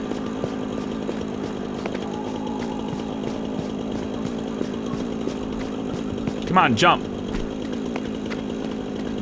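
A chainsaw cutting wood in the Satisfactory video game gives a brief rising snarl under a steady mechanical hum, with a person talking over it.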